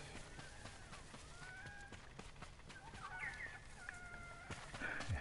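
Chickens cluck and a rooster crows in the video game Ghost of Tsushima, several birds calling at mid distance over steady outdoor ambience and scattered footsteps.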